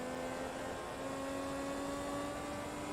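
A Pagani Zonda engine drones steadily in the racing game Forza Motorsport 2, a faint, constant engine tone with held harmonics and no obvious revving, alone without talk.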